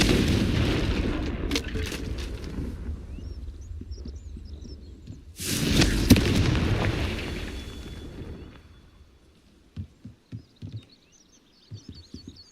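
A Confringo fire spell explodes in Hogwarts Legacy with a heavy, rumbling boom that swells twice and then fades. A few sharp thuds and clicks follow, with faint ambient chirps behind.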